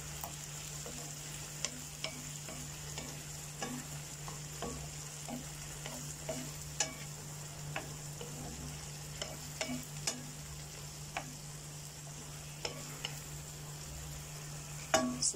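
Sweet and sour tuna frying in a pan, a constant soft sizzle with a steady hum underneath and scattered light clicks and scrapes from stirring, faint and close.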